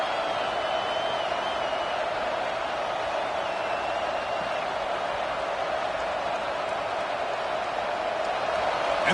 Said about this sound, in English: And this crowd coming to life here, trying to help the defense get a stop